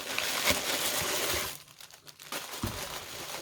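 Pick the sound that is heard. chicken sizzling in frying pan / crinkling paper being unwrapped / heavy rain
crinkling paper being unwrapped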